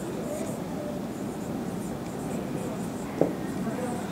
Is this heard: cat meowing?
no